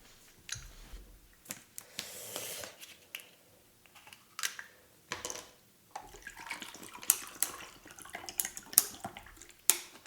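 Water being poured and swallowed after a Korean soybean pork steak mukbang meal, quiet close splashing and trickling with small clicks and gulps, no talking.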